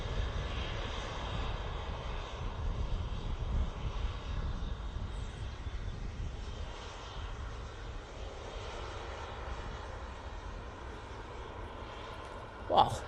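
Emirates airliner departing Manchester Airport for Dubai, its engines a steady broad roar heard from a distance that holds through the whole stretch, with a brief louder bump near the end.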